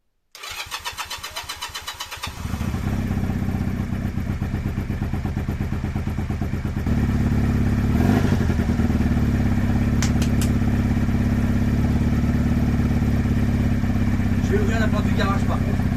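A restored motorcycle engine starts up close and loud, then runs steadily, with the idle stepping up in intensity twice and a few faint clanks near the end.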